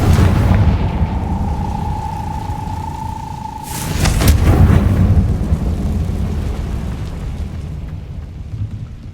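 A Confringo blasting spell goes off in Hogwarts Legacy with a loud, broad explosive boom about midway through. Before it, a steady tone hums over a heavy rumbling background, and the echo lingers afterward.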